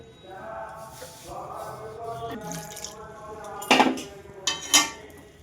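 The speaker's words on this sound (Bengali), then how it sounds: "আমি এবার নেড়ে নিচ্ছি ভালো করে জলটাকে নেড়ে চড়ে শুকনো করে নিতে হবে" A spoon scrapes and knocks against a pan as rice flour dough is stirred over low heat, with a few sharp metallic clinks later on and a faint voice early in the stretch.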